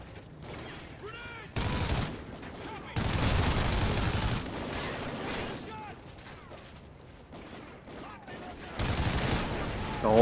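Pistol gunfire in the shooter game Call of Duty: Ghosts, bursts of sharp shots in several loud clusters separated by quieter gameplay noise, with a voice talking between them.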